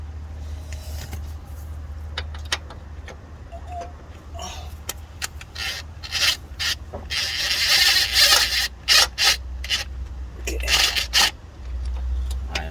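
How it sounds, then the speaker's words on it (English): A front driver axle on an Infiniti G37/G35 is rubbed smooth by hand, with scattered scrapes building into bursts of loud, rough rubbing over a low steady hum. "just smooth the axle like that, so I can get to it."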